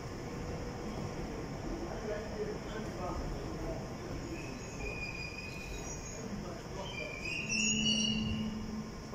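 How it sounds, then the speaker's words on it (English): A London Underground train rumbles into Cockfosters station where it terminates, wheels squealing in high thin whines and a brake hiss swelling near the end, close and steady throughout. "this is the train terminating here"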